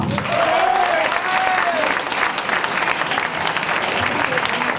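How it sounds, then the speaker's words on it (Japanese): Loud, sustained audience applause fills the arena after a main-event fight, a dense wash of clapping with crowd noise and a voice ringing out over it throughout. "大きな拍手をお願いいたします"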